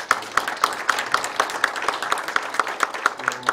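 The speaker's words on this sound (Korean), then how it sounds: "박수 한번 좀 부탁드립니다" Scattered applause from a small audience at a press conference announcing the Yangpyeong–Seoul expressway, individual claps spaced out and fairly sparse over a low room murmur.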